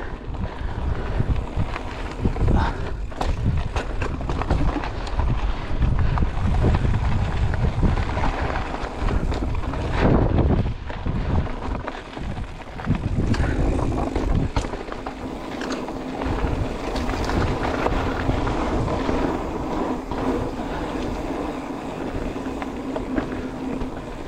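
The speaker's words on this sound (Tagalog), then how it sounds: "Mahangin." Wind gusts steadily across an open park at a fence line, with continuous rough blustery buffeting on the microphone that swells and eases over time, and no voices.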